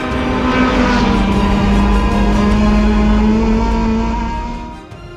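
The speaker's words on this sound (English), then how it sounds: "And she's another pocket rocket out there steering the little Honda this weekend, courtesy of Nia." A small Honda race car at a time attack event drives on the track with a loud, steady engine drone close by, holding its pitch before dropping away briefly near the end.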